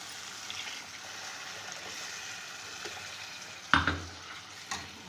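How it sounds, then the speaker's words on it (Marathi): Cowpea pods cook with masala in a pan, sizzling softly and steadily. Water then pours in with a sudden loud splash and hiss, and a smaller burst follows soon after. "आता आपण हवं तितकं पाणी टाकणार"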